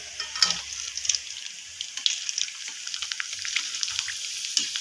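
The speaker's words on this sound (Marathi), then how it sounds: "आपण ह्या कुरड्या बघा दोन दिवस उन्हात वाळून घेतलेल्या आहेत आता आपण यात तळून बघूयात" Sun-dried sabudana kurdai deep fry in hot oil with a steady bubbling sizzle and crackle, close and moderately loud throughout, with no voices.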